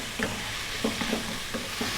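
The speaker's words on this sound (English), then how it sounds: "we're just going to just fry it around on this high heat" Fresh tuna pan-frying over high heat, a continuous loud sizzle with a few soft scraping pushes of a utensil moving the fish around the pan, close up and without any talking.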